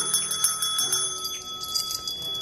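A puppy taps a small bell, and its clear metallic tone rings and sustains through the whole short moment with a few light repeated strikes, close and without voices.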